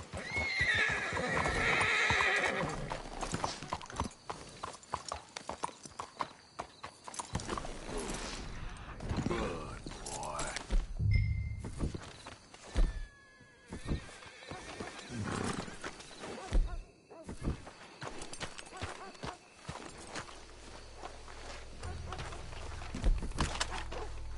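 Horses in a Rockstar video game whinny loudly and clop their hooves over a long stretch, with creaking tack and movement. Louder bursts break up quieter passages of hoofbeats.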